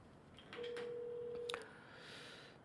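A telephone call goes through on a phone line, with a steady electronic tone lasting about a second followed by faint clicks and soft line noise.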